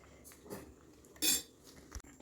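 Wheat flour halwa with ghee being stirred in a kadai, giving a few scattered metal-on-metal scrapes and clinks of a spoon against the pan, one louder scrape near the middle, with no talk.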